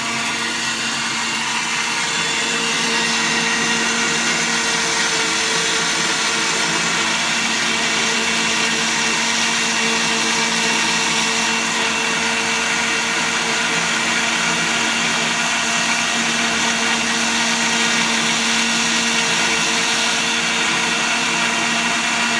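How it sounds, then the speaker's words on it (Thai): A washing machine drum spins steadily while water fills the machine, a continuous loud motor hum with a constant whirring tone and rushing wash noise throughout, with no pauses. "ปั่นแล้วก็รอน้ำเติมเข้ามาในเครื่องด้วยนะครับ"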